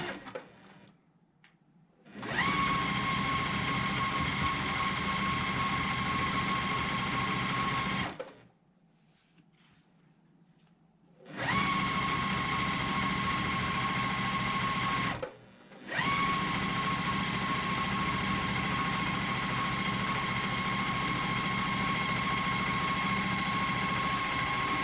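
A sewing machine stitching a pinned quilt block, running in long steady whirring bursts with a constant hum, stopping twice briefly between runs.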